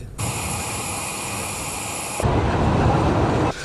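Aid aircraft at Hodeidah International Airport, two planes arriving at once: a loud, steady roar of jet engines that swells abruptly partway through, then cuts off.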